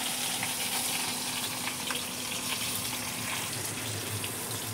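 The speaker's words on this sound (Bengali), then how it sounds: "বন্ধুরা ওইদিকে তা করতে মাছ ভাজা হচ্ছে" Fish frying in a pan in a home kitchen, a soft continuous sizzle mixed with running-water-like hiss, steady and fairly quiet throughout, with no voices.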